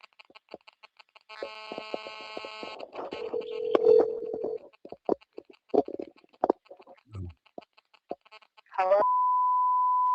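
Telephone ringback and dial tones from a recorded phone call, with steady tonal beeps, clicks and handset noise, a short garbled burst, then a sustained flat tone near the end.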